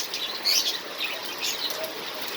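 Soft bird chirps and fluttering wings over a steady hiss of heavy typhoon rain and wind, with brief bursts of flapping.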